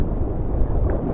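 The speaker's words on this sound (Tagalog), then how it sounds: "Bago 4DR5 yung makina nito." A fishing boat with a new 4DR5 engine running at sea, a steady low rumble with wind and water noise over the microphone, continuous and close.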